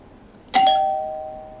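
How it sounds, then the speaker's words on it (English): A single electronic front doorbell chime rings out clearly in a quiet room, its tone lingering and slowly fading. "the front doorbell has a sound and the rear doorbell has another sound"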